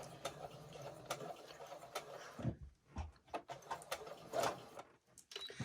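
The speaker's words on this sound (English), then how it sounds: "And then you want to backstitch again." A home sewing machine backstitches the end of a seam on a fabric mask or scrub cap, giving a close, moderately loud mechanical whir with short stops and restarts and bursts of clicking as it reverses, with no one speaking.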